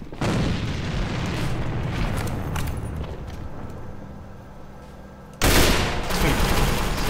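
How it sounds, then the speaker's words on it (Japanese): Grenade explosion and gunfire in the online shooter AVA, a loud booming blast followed by a sustained rumbling roar of fire that fades, then a second abrupt loud burst of noise. "手榴弾を使うぞ"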